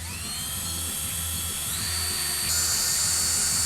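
A power drill whines loudly and continuously, its pitch rising in steps as it bites into a window frame insert, close and with no talking.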